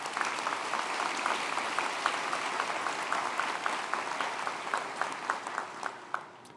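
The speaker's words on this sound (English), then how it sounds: "Let's give them all a round of applause." Sustained applause from a graduation audience at a high school ceremony, a dense steady crackle of many hands clapping throughout with a few sharper individual claps standing out near the end.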